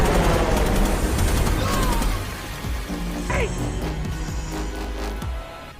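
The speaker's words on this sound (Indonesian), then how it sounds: "heli tersebut menghujani mereka dengan tembakan" Rapid bursts of gunfire from a helicopter crackle through a loud, dense din of action in the film Shooter, with repeated sharp shots layered over rumbling noise.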